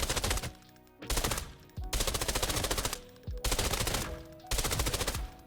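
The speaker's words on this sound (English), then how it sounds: "we're going to be starting out with tier 4 ammo, SS190, and we're going to be shooting a tier 5 target" Bursts of automatic rifle fire using SS190 ammunition in Arena Breakout: Infinite, several rapid sustained volleys of sharp, evenly spaced shots separated by brief pauses, loud and close.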